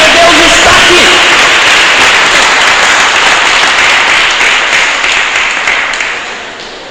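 A church congregation breaks into loud, dense applause that fills the room steadily, with voices shouting over it, then gradually thins and fades near the end.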